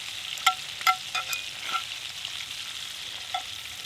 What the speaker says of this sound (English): so I'll just let them sizzle there a minute